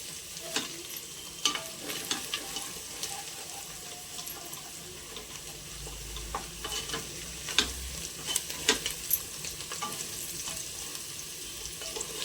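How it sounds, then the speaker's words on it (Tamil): Ginger garlic paste being sautéed and stirred in a pan for chicken biryani, a low continuous sizzle with scattered scraping clicks from the stirring, fairly quiet and close, with no one talking. "நல்லா வதக்கிட்டே இருங்க ஏன்னா இது அடி பிடிக்கும்"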